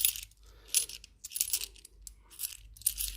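Coins drop into a hand in several quick bursts of faint, bright metallic clinking, close by and quiet, with short pauses between handfuls.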